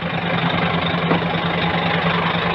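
A new Scania P360 ten-wheel truck's engine idles steadily with a low, even rumble and a constant hum, close and continuous with no talk over it.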